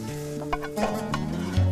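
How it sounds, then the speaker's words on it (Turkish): Meat and chickpeas with their cooking broth are poured into onions frying in a pot, giving a brief close-up sizzle and bubbling with stirring, in a Turkish village kitchen in Pınarbaşı. "Meryem Hanım şimdi yemeğin lezzetini artırmak için soğana eti ve nohutu sularıyla birlikte ilave ediyor"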